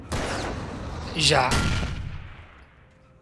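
Gunfire in the video game Alan Wake: a sharp burst followed by a second heavy blast that rings out and fades, with a man's short exclamation over it.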